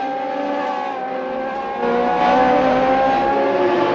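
Race car engines in a racing video game roar and whine continuously with high-pitched revving, growing slightly louder partway through, with no voices.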